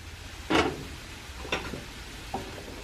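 Drained chickpeas with spices cook in a pan, with three short scraping stirs spaced about a second apart over a faint, low sizzle; nobody talks.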